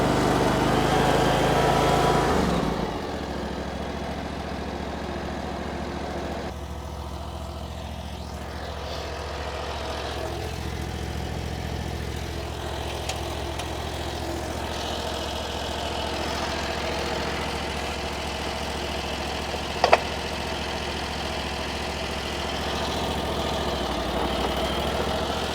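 A Chinese skid steer's engine idles with a steady low rumble close by, dropping to a quieter idle after a few seconds and holding there, with a brief sharp knock near the end.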